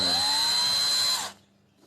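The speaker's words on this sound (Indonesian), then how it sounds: "Modenya bisa drill. Ini gunanya fungsinya buat ngebor dinding." A 20-volt cordless drill in drill mode for boring into walls whirs at a steady high pitch close by, then spins down and stops after a little over a second.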